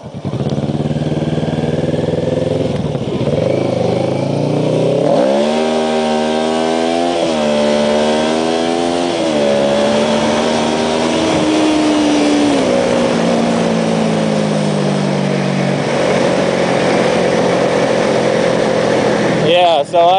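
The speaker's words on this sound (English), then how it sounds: "That's what we call traffic." Street traffic in Taiwan, with a nearby engine repeatedly revving and dropping over a steady road roar, plus someone talking throughout.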